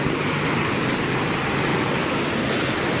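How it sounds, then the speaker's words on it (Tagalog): Steady broadband mechanical whir with a constant hum, like a drone's rotors running continuously nearby, no voices. "papalipad lang si Mark dito ng drone para makita nyo rin yung location dito."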